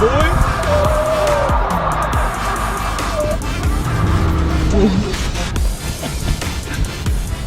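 Tires of a leveled Ram 1500 pickup truck with King shocks spinning off-road, the engine revving up and down with a rising and falling whine over rough churning and scrabbling, close and loud, with voices faintly mixed in.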